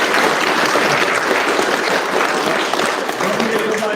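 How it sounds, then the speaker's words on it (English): A convention panel audience applauds loudly and steadily, a dense wash of clapping filling the room for the whole stretch with no pause. "Give him a hand clap, everybody."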